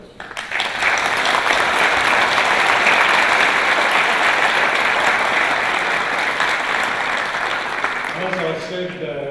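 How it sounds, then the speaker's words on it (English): A large audience gives sustained applause for new graduates at a university graduation ceremony in Sydney, a dense, steady wash of clapping that swells in and then fades at the end as a voice begins speaking. "Please, everyone, honour them with your applause."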